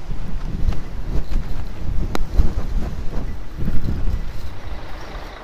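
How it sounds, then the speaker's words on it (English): Gusty jugo wind buffets the microphone at the Hvar island ferry port as a ferry arrives, a continuous low rumble with an engine drone and scattered clunks beneath it. "We have a Yugo wind blowing"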